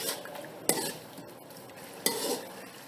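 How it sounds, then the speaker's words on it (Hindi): Vegetable fried rice with spices is stirred in a pan. A steady low sizzle runs underneath, and two sharp scrapes of a utensil against the metal cut through it. "नमक शामिल करेंगे हस्बे ज़रूरत अपने टेस्ट के मुताबिक और हम अच्छे से इन्हें मिक्स कर लेंगे मसाले को।"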